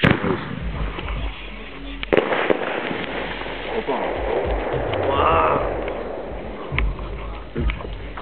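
Bangs from a birthday fireworks cake go off outdoors, a few sharp cracks spread across the clip amid crackling noise, with people talking throughout.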